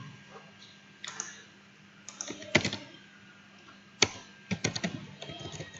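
Computer keys tapped while writing React code, in scattered clusters of sharp clicks with short pauses between, close and fairly quiet, no speech.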